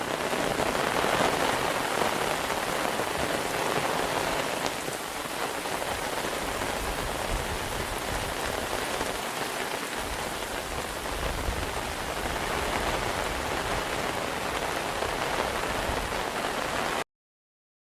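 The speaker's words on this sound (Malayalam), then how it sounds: "സംസ്ഥാനത്ത് കനത്ത മഴ പലയിടത്തും നാശനഷ്ടം" Heavy rain pours down without a break, a dense, even hiss of drops hammering surfaces close by for about seventeen seconds, with no voices.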